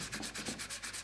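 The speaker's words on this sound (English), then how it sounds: "So I'm just going to sand over Speedy." Hand sanding over a carved wooden cartoon figure, quick rhythmic back-and-forth rasping strokes, about eight in a second, close and fairly quiet with no talking.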